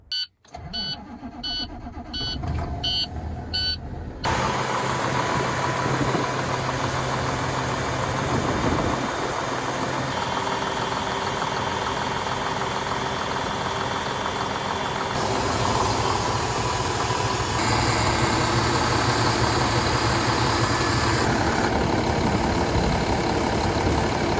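A cold diesel truck engine, started after sitting idle over a vacation, cranks briefly and catches, then settles into a loud, steady, rumbling idle that runs on alone.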